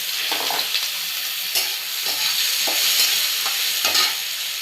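Bhog rice with dry red chillies and whole cumin stirred and fried in a pan, a steady close sizzle with periodic scraping stirs, no talk.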